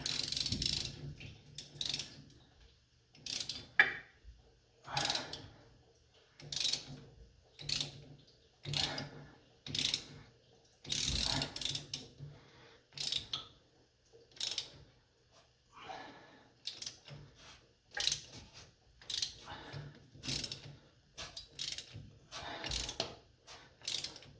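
A cheap ratchet clicks as it turns a bolt on a classic car, repeated close bursts of rapid pawl clicking separated by short pauses, with no speech.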